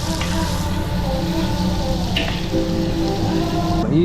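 Ginger garlic paste frying in a pan for mutton dum biryani, a steady close sizzle and crackle running throughout with a few faint scrapes near the end.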